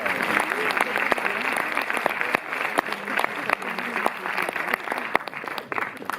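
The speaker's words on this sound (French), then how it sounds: "on applaudit le jury" A festival crowd in a Montreuil cinema gives the jury on stage a dense, sustained round of applause that runs throughout, with a voice faintly audible beneath the clapping.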